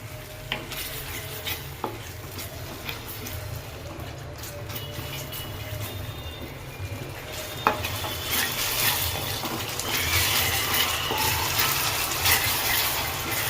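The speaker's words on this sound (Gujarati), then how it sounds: "કાજુને ત્રીસ ચાલીસ સેકન્ડ તેલમાં પકાવવાના" Cashew pieces fry in oil with tomato gravy for a Gujarati kaju fulwadi curry, a soft continuous sizzle broken by spoon stirs and occasional pan clinks that grows busier toward the end.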